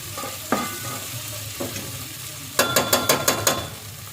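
Onions and potatoes frying in a pan are stirred, with a steady sizzle under a few scrapes, then a quick run of six rhythmic scraping strokes near the end, close and clear with no voices.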